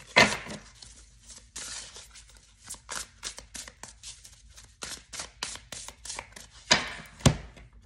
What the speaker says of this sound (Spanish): vamos a cortar estas cartitas para ti, Escorpio